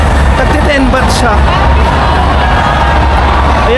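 A large crowd at the Songkran water festival in Bangkok gives a steady, loud wash of babble and shouting, with scattered whoops and cheers and a nearby voice rising above it.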